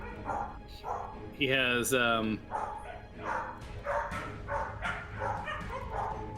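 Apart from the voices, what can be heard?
dogs barking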